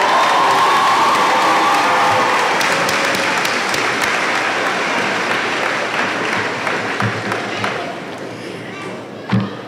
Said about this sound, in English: One more round of applause for Jatavius